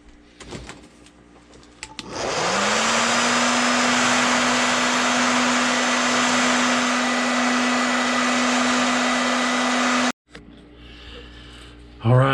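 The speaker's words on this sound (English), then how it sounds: "let's heat set that." A heat tool blows steadily for about eight seconds to set color shift paint, giving a loud, even whine and rush that cuts off abruptly, with brief talk before and after.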